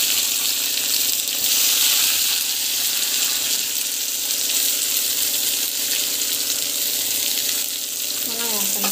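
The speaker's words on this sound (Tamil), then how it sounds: "ஸோ வெங்காயம் வந்து ஆட் பண்ணிக்கலாம்." Sliced onions hit hot oil already crackling with mustard seeds and cumin, raising a loud, steady sizzle that fills the whole stretch without pause.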